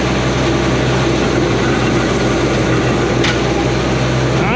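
Hyundai 220 machine, an older heavy machine, with its engine running in a constant loud droning hum and low rumble, unbroken and close.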